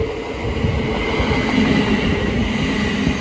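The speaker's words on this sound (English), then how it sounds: "Now arriving is the 1510 Thameslink service from Horsham to Peterborough, being worked by a class 700" A Thameslink class 700 electric train pulls into Hitchin station on the East Coast Main Line, a steady close rumble of wheels on rail with a faint high whine above it.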